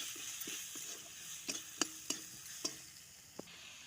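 Masala spices sizzle quietly in a pan for egg curry: cumin, coriander, chilli, Kashmiri red chilli and turmeric powder with salt. A soft frying hiss sits under a handful of sharp spoon clicks against the pan.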